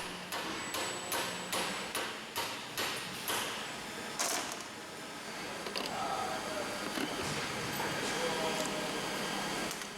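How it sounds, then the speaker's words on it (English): A rapid series of sharp metallic hammer strikes on a pin against a Denso common rail injector body, close and loud, giving way to a continuous clattering, grinding workshop noise. "we strike it with a hammer and a strike pin"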